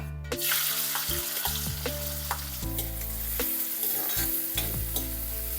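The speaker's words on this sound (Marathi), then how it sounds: "त्याच तेलामध्ये ऍड करूया आपण कांदा" Chopped onion sizzles in hot oil left over from frying cauliflower, with a steady frying hiss and several sharp scrapes of a spoon stirring the pan, no voices.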